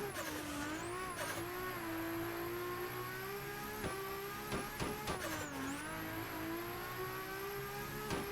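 A drift car with adjusted toe settings runs a lap, its engine droning steadily and close with revs rising and falling, sharp shifts and brief tire squeals breaking through, with no talking.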